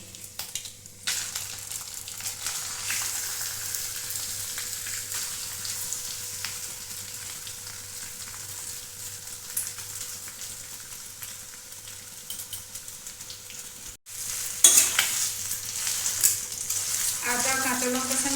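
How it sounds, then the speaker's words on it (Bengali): Ginger and green chilli fry in a pan as mashed potato is added and stirred for a golgappa filling, heard as a steady sizzle with scraping stir strokes that grow louder and busier toward the end. "আদা আর কাঁচা লঙ্কাটা একটু ভেজে নিয়েছি এখন এতে আমি চটকানো আলুটা দিয়ে দেবো"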